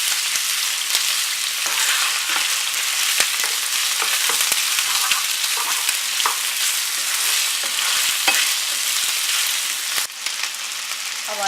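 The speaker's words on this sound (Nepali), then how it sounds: "चिकन राखेर चिकनलाई केही बेर फ्राई गर्छौँ" Chicken frying in a pan gives a dense, continuous sizzle with scattered sharp crackles and pops throughout, loud and close with no talking.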